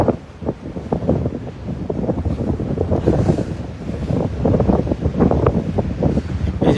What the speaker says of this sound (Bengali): যে পরিমাণ হাওয়া আমাকে ধাক্কা দিতেছে, বলার বাইরে।